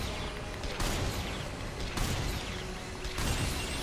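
Continuous heavy weapon fire in Earth Defense Force 4, a dense, loud stream of rattling blasts with surges roughly every second.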